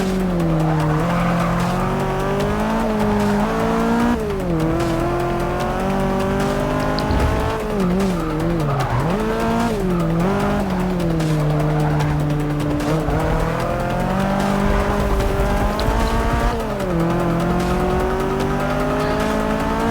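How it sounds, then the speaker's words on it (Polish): Race car engines in the video game Forza Motosport 6 roar and shift pitch continuously while tires squeal and skid through corners, loud and close, with no voices. "Dźwięki silników w tej grze też są bardzo dobrze odzorowane"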